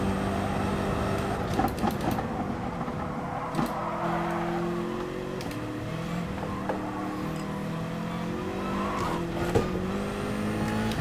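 A race car in GT Sport slides wide and struggles for grip, its engine droning and revving steadily while tires squeal and scrub through the corner, close and continuous.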